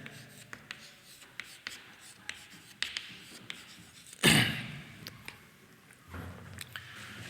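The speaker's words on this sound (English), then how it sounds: "Here I am writing." Handwriting with a pen during a math lesson on relations and functions, a string of small scratches and taps at close range, one louder brushing rustle partway through, with no talking.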